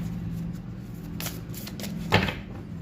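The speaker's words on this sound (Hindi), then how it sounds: "यहाँ से मैं 4 कार्ड निकालूंगी आपके लिए" Tarot cards are drawn from a deck one after another with soft rustling and flicking swishes, close by, over a steady low background hum.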